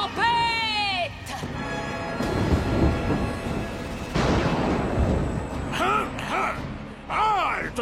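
Cartoon thunderstorm effects from a superhero animated series: loud rumbling thunder crashes and booming strikes fill the middle, framed by high-pitched character voices and whooshing effects at the start and end.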